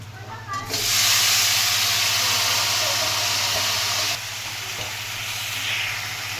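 Hot mustard oil in a pan for a soybean curry bursts into a loud, steady sizzle and hiss that holds close for several seconds, then settles to a slightly softer fry.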